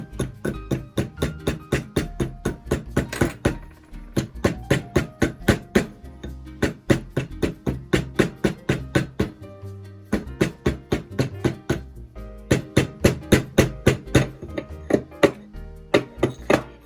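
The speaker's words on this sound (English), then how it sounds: "how you size them is you just pound them down" A sterling silver ring is hammered down to size in quick repeated bursts of sharp metallic taps, with brief pauses between series, close and fairly loud with no talking.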